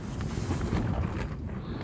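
Steady, loud wind buffeting the microphone with a broad roaring rush, no voices present, during cold-weather car camping.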